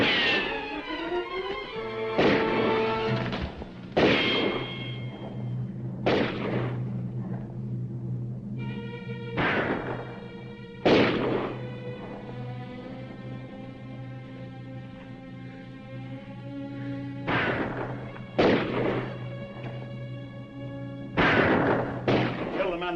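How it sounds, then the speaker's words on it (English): Gunshots crack out one after another in a 1950 western shootout, several sharp reports spread across the scene over a steady music bed. "Keep shooting. That's all we can do."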